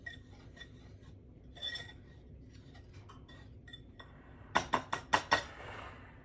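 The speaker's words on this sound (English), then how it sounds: "I'm going to whisk those together and set them aside" Flour, baking soda and baking powder whisked together in a bowl for sugar cookies, quiet at first, then a quick burst of about five sharp metallic clinks near the end.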